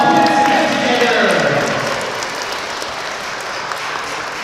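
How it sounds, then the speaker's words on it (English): Crowd at a city council campaign kick-off event applauding, a loud sustained wash of clapping that slowly fades and thins out, with some voices mixed underneath. "Let's give them a hand of applause"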